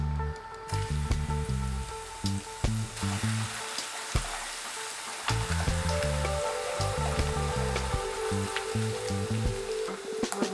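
Garlic and fennel seeds sizzle and crackle steadily in hot oil in a pan, with intermittent stirring scrapes and no talking.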